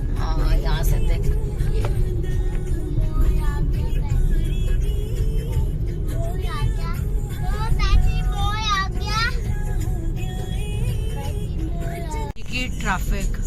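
Evening road traffic at about 8:22 PM on a road with a view toward Pacific Mall: a steady, loud wash of car and bus engines with passing vehicles and horn-like tones, a continuous rumble throughout.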